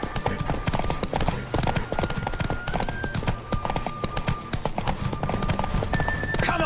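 Rapid hoofbeats of a galloping horse in The Witcher 3: Wild Hunt, steady and close, layered over busy game music and effects, with a brief whinny near the end.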